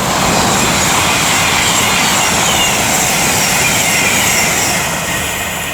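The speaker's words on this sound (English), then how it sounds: "now approaching is going to be 221, 114 and 101 for Avanti West Coast" An Avanti West Coast Class 221 train approaching a station on the West Coast Main Line at Lichfield Trent Valley, a loud steady rumble and rushing roar with faint wheel squeal throughout, no talking.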